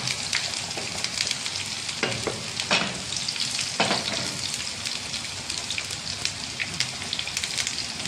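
Steady, close sizzling of dried red chillies frying in a pan for a mushroom curry, with occasional louder crackles and stirring scrapes and no talking.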